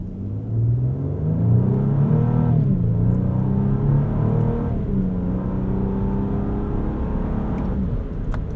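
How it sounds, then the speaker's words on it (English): A 2025 Infiniti QX80 Autograph's V6 engine accelerates in sport mode from inside the cabin, a loud, steady droning rise in revs with audible shifts that drop the pitch before it climbs again, with no talking. "Show you what this V6 sounds like in sport mode here."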